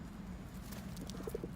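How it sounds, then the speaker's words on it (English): A pigeon coos softly in a few short, low, throaty notes near the end, heard against a steady outdoor background without any talk. "There's that pigeon, wants to be on TV too."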